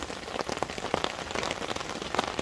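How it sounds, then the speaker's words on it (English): Heavy rain pours down at a campsite, a dense continuous patter of drops drumming on surfaces with no voices. "It's chucking it down. A morning of rain. Proper rain."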